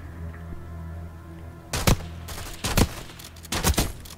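Three sharp, loud blasts of shotgun fire in Call of Duty: Black Ops 6, spaced about a second apart over a low steady game ambience with no talking.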